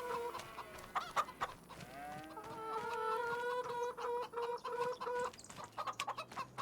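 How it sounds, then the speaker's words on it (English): Chickens cluck repeatedly with a short crow-like call on a farm in a homestead survival video game, close and steady, layered clucks over a light background. "Need to put some food in for these chickens."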